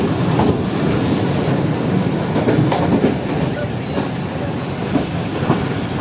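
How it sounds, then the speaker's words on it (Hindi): Train running on railway lines near Sialkot, a continuous rolling rumble from the carriages with intermittent clickety-clack of wheels over rail joints, loud and close the whole time. "वो देखें अब आगे लोकोमोटिव दोबारा से इन्हीं लाइंस पर आ रहा है।"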